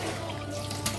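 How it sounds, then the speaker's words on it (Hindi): Water trickles and splashes steadily into gram flour pakora batter in a bowl, a close, continuous pour with a small splash near the end. "हल्का सा पानी डालेंगे इसमें"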